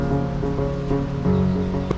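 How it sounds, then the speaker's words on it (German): Steady rain falls outdoors during a cycling tour across Europe with a bicycle camper trailer, a continuous close patter with low rumbling texture and no talk. "Der Regen sollte heute aber einfach nicht aufhören."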